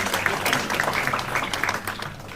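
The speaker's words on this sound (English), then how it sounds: "Please join me in welcoming our Vice Chairman with a warm round of applause" An audience at an academic function claps to welcome the Vice Chairman, a moderate, uneven round of applause with scattered individual claps standing out.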